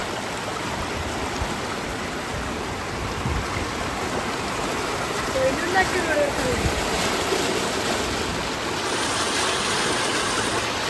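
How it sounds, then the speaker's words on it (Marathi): Heavy floodwater rushes down a road at Girnar after intense rain, a loud, constant roar of flowing water with people talking faintly beneath it. "पाण्याचा फोर्स बघा कसा वाहतोय"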